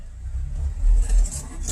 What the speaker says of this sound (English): Alright, just had to turn the car around.